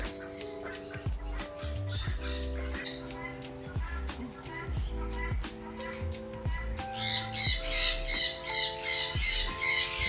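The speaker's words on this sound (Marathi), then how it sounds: "या ठिकाणी हे पक्षी आहेत विविध जातीचे रंगबिरंगी असे मकाऊसारखे सुंदर पक्षीही येथे आहेत" Shrill squawks and chirps of parrots, lovebirds and macaw-like birds repeat through the scene at a fish theme park in Sawantwadi, India, growing louder and more insistent toward the end, mixed with tonal music or voices underneath.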